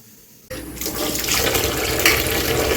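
Gourd greens washed in water, opening with a sudden gush of running tap water after a quiet start that continues steadily as splashing, close and fairly loud.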